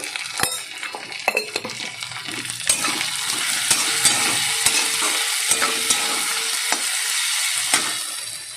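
Spices sizzling in hot oil as they are stirred for a small mourala fish curry with cumin and turmeric, a continuous crackling fry punctuated by sharp spoon clacks and scrapes against the pan.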